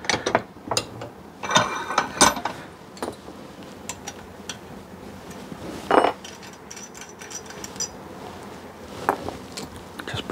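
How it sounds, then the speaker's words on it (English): A screw being undone while cage nuts are made by hand, giving small scattered metallic clicks and scrapes, close and fairly quiet, with one sharper burst partway through and no talk. "So I'll undo this screw."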